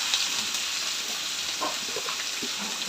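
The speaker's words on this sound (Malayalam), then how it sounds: "ഇപ്പം ഞങ്ങൾ ഉള്ളി വഴറ്റാം." Onions sautéing in a pan give a steady, close hiss of sizzling oil throughout, with faint clicks and stirring scrapes, no talking.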